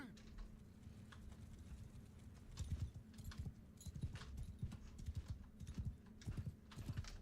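Cavalry horses gallop in a video game battle, with rapid irregular hoofbeat clatter building after the first couple of seconds and continuing under a low battlefield rumble.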